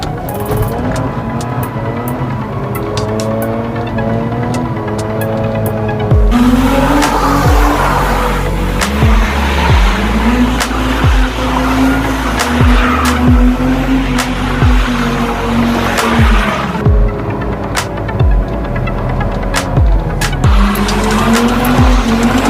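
A Mazda RX8 with a rotary engine spins donuts in an open area, tires squealing loudly and continuously as the engine revs rise and fall, close and dominant throughout.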